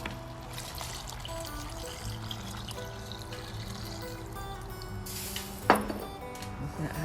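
Broth pours into a soup pot already holding potatoes and tomatoes, a soft liquid splash and trickle amid faint kitchen clatter, ending in a brief sharper clink of metal near the end.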